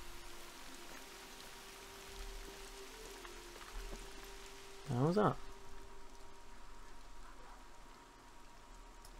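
Steady in-game rain from The Hunter hunting game hisses beneath a voice, with a short louder burst of speech partway through.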